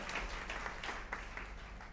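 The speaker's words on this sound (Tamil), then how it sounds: "ஒரு கைத்தட்டு கொடுங்க." An audience at a Tamil speech gives a short burst of applause on request, steady clapping that sounds moderately distant and fills the whole moment without a voice over it.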